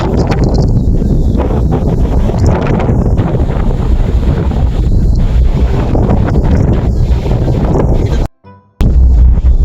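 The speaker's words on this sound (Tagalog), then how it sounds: "Pero malakas ang hangin, oh." Heavy wind buffets the microphone in loud, continuous rumbling gusts, cutting out briefly near the end before roaring back.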